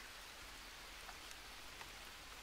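Rain in the survival game Green Hell, a soft, steady hiss of falling rain with faint scattered drops, quiet and continuous with no one talking.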